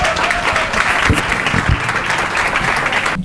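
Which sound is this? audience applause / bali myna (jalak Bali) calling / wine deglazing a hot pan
audience applause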